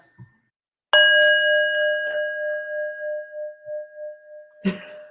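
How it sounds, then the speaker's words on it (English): A single bell is struck once, ringing out with a clear tone that slowly fades in pulsing waves, followed by a soft knock. "I'm not using the harmonica. I'll use the bell."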